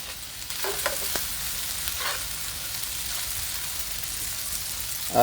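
Sweet potato vermicelli noodles and Italian sausage are stirred in a pan over an outdoor fire, with a soft sizzle and a few scraping strokes near the start, then steady low frying noise with no talk.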